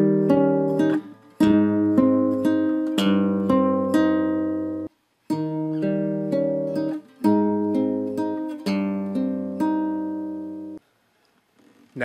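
A classical guitar plays a transition passage from the Moonlight Sonata, bars 10 to 15, with steady rolling arpeggiated chords in repeating groups, briefly pausing before resuming and fading out near the end.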